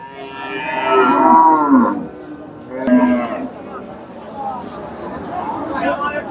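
A Friesian bull moos loudly in a long drawn-out call, followed by a second shorter low moo, with faint background chatter around the animals at a cattle market.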